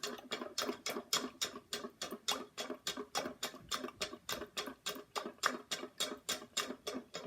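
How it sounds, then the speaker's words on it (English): Eggs for banana pancakes are whisked briskly in a bowl, making a fast, even ticking rhythm of light taps and swishes, about three strokes a second, close and fairly quiet, with no talking. "Just whisk them together until they're a little bit fluffy"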